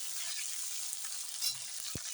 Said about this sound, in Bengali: একটু ভাজা হোক আলুগুলো